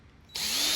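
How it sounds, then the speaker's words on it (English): A power drill starts up and spins steadily, working on a Zippo lighter to free its stuck flint; a loud, close, continuous whine begins partway through after a moment of quiet. "I'll get the drill out, and upon getting the drill on it, that solves the problem pretty quick"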